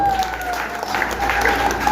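Crowd applause at a church gathering, a steady dense clatter of many hands clapping throughout, fairly loud with a hum underneath.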